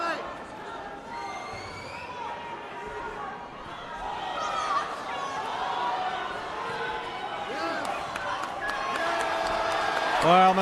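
A boxing crowd at a British championship bout between Sean McGoldrick and Scott Allan swells into cheers and chatter. The arena noise builds steadily beneath continuous ringside commentary, with sharp bursts near the end.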